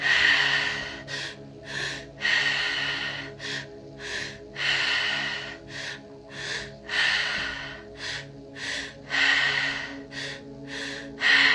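Deep, forceful breathing in a guided breathwork session: about a dozen loud, rhythmic breath cycles with sharp airy inhales and exhales, close and alone.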